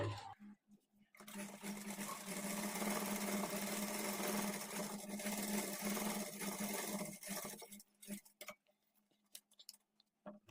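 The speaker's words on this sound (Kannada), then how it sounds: "ಈ ಥರ ಒಂದು ಮೂರರಿಂದ ನಾಲ್ಕು ಸ್ಟಿಚ್ಚು ರಪ್ ಹೊಡ್ಕೊಂಡು ಸ್ಟಿಚ್ ಮಾಡ್ಕೊಳ್ಳಿ" A sewing machine runs steadily for about seven seconds while stitching the joined edges of a churidar trouser, a close, continuous mechanical whir that breaks off into quiet handling noises and faint clicks.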